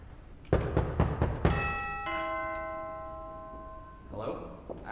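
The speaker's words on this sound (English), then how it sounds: "That's the doorbell, dear, not the telephone." A two-tone doorbell chime rings once on stage during a theatre performance, its tones sustaining and slowly fading, after a few knocks or thumps, with faint voices around it.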